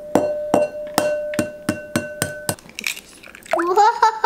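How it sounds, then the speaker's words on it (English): Two eggs cracked into a bowl for a baked mac and cheese, preceded by a run of eight sharp, evenly spaced taps of shell against the rim, followed by soft wet cracking and splashing, close and clear. "but you will need 2 eggs, and you just want to crack them"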